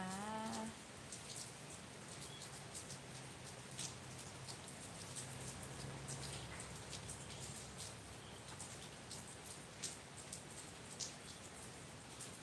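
Steady rain patters faintly outside a rural home beside a road, a soft, even hiss with scattered drop taps and no voices.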